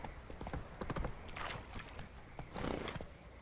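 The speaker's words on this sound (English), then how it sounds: "Look out, horse!" Horse hooves clip-clop at a quick trot through town in The Witcher 3, a close, rhythmic run of sharp hoofbeats that stays steady and fairly loud for the whole stretch.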